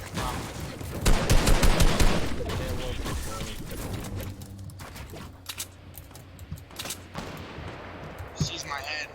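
Rapid bursts of video game gunfire in Fortnite crackle in dense clusters near the start, then thin to scattered shots, with a player's voice talking over the action.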